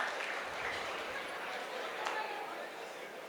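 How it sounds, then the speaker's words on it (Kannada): Boys in an audience clap loudly, a dense, continuous wash of applause that stays steady throughout, with a slightly stronger burst near the middle. "ಈಗ ನೀವು ಹುಡುಗರು ಜೋರಾದ ಚಪ್ಪಾಳೆ ತಟ್ಟಿದ್ರಿ"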